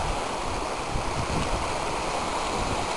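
Water rushes steadily through river chutes beside a spring at Frog Springs on the Lower Deschutes, a loud, continuous close-up roar with no break.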